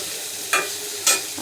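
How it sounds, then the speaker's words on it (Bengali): Half-boiled flat beans and yardlong beans fry in oil with a close, even sizzle, broken by two brief louder bursts of spatter as the pan is stirred. "সিম আর বরবটি হাফ সিদ্ধ করে তেলে ভেজে নিচ্ছি"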